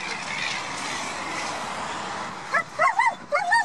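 Puppies barking and whimpering in short yips over a steady roar of passing traffic, the dog sounds arriving as a few brief bursts near the end.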